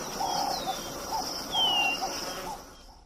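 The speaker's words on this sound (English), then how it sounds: "According to Seyfarth, Cheney, and Marlar, leopard alarms are short tonal calls typically produced in a series on both exhalation and inhalation" Vervet monkey leopard alarm calls: a series of short tonal calls, produced on both exhalation and inhalation, repeating steadily for about two and a half seconds. The calls are moderately loud, with a faint high whistle running alongside and no talk.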